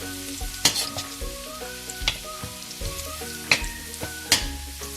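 Garlic frying in cooking oil for a pork ribs caldereta, a close, steady sizzle broken by several sharp scraping and stirring clatters, with no voices.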